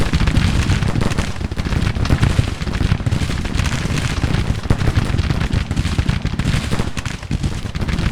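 Dense musket volleys and artillery booms from a Grand Tactician: The Civil War battle rage continuously and loudly, crackling and thudding with no pauses, while a voice speaks faintly now and then underneath.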